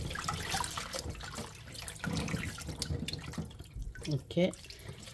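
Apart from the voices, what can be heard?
tap water rinsing water dropwort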